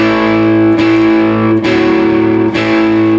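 An electric guitar plays a riff twice through, its distorted, effected tone ringing out in three clear strummed phrases with no talking.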